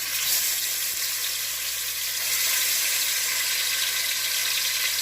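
Oxtail searing in a hot pot for Jamaican-style oxtail, a loud, dense, continuous sizzle close up with no break and no talk.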